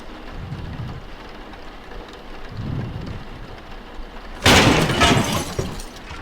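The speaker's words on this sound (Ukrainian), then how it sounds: "моє ну вікно розбили" Window glass shatters in a Roblox game: a loud, sudden crash bursts out after a low rumbling background and trails off in a scattered spray of debris.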